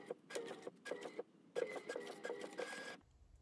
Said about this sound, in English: It is printing, you guys, and it is looking good.